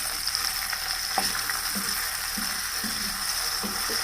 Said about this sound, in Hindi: लहसुन थोड़ा सा भुन गया है, अब हम इसमें डाल देंगे टमाटर